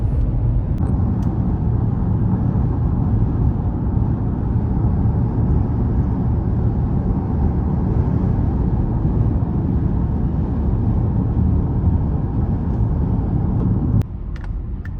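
A car drives into the mountain town of Mammoth, its engine and road noise forming a steady, loud rumble heard from inside the cabin that softens near the end.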